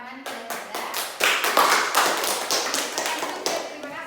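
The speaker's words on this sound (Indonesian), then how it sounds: "Boleh kita beri tepuk tangan kepada Firda" A small classroom group applauds a student during a microteaching simulation, with a ragged patter of claps that swells after the first second and then tapers off.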